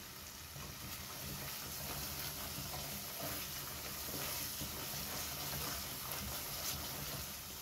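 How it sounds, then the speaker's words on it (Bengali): Dried phewa fish frying in oil in a pan, a steady, even sizzle crackling continuously at close range with no pauses. "আমার শুটকিটা ভাজা ভাজা হয়ে আসছে, তেল উঠে আসছে।"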